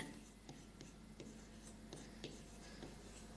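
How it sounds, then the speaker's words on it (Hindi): Quiet, rhythmic strokes of someone writing by hand on a board, roughly a dozen short scratches spaced evenly across a few seconds, close by and faint, with no talking. "यहां पर मैं लिख देता हूं लार्जेस्ट ग्लैंड"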